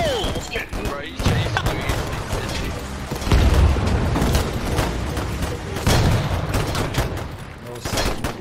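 Musket volleys in the Holdfast battle game crackle in dense, overlapping bursts, loud and close, with heavier booming swells through the middle and no pauses between them.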